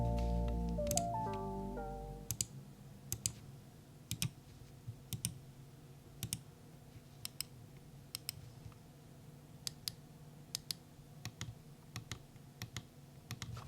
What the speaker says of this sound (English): The mouse uses SteelSeries mechanical switches, which sound like this.